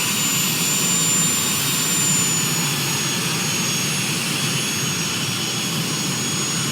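Steady jet engine whine and rumble from an airliner taxiing in a flight simulator game, a continuous loud drone with a high tonal whistle, no talking.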